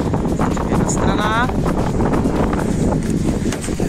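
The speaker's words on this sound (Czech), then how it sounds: "Tady fouká. Snad to bude slyšet dobře." Wind gusts buffet a microphone inside the open trunk of a Škoda Octavia III, a loud continuous rumbling roar with a brief chirping squeak partway through and a voice speaking over it.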